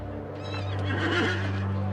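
A horse whinnies loudly and clearly, its neigh rising and falling over steady low hoof clatter, alone with no voices, at a grand imperial ceremonial entry into Jerusalem.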